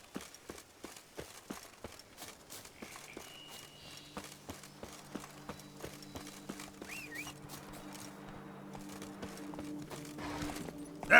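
Roach, Geralt's horse in The Witcher 3, runs with rhythmic hoofbeats that are sparse and faint at first, then grow denser and louder as the pace picks up, while a sustained tonal game score rises underneath.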